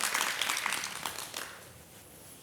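A studio audience on a morning talk show gives a short burst of applause for a hospital pulmonology professor, with soft, dense clapping that fades within a couple of seconds.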